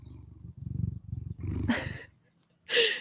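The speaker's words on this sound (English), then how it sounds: "You might be able to hear him purring." A cat's low, steady rumbling purr pulses in close, then a couple of brighter, sharper bursts break in near the end.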